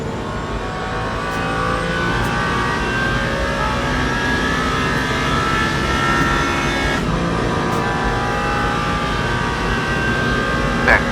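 A race car in Le Mans Ultimate lapping the 24 Hours of Le Mans circuit toward the second chicane, its engine a steady, loud, unbroken drone throughout, with a voice faintly talking underneath.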